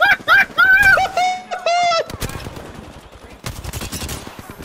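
Rapid bursts of automatic gunfire ring out in the video game Apex Legends, loud crackling volleys after a few tonal game effects, with a voice faintly present among the shots.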